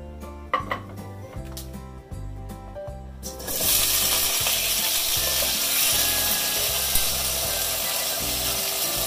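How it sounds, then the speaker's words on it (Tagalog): Potatoes frying in cooking oil for a chicken curry, a dense, even sizzle that sets in abruptly after a few seconds and holds steady, with a few clinks of a utensil at the start and music playing underneath. "We start by frying the potatoes."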